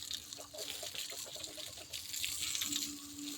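Water running from a tap in the open, a steady moderate splashing gush that swells slightly toward the end, with no talk over it.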